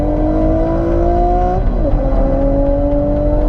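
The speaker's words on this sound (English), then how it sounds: "It's the soundtrack of the Nissan sports cars we know and love." Nissan Skyline sports car engine revving steadily, a loud sustained droning note that dips and climbs again as the revs shift, close up with no voices.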